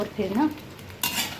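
A spoon stirs chillies and garlic in a pan over low heat, giving two short bursts of close scraping and light sizzling, with someone briefly speaking between them.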